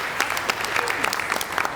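An audience at a school convocation claps steadily throughout, a dense patter of many hands in a hall at fairly even loudness.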